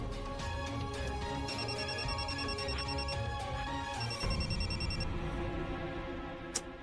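A telephone ringtone trills in two short bursts over steady background music, fairly quiet.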